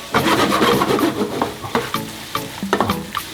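Prawns with fresh parsley are stirred in a sizzling pan, the spoon scraping and clacking in irregular strokes over a softer frying hiss.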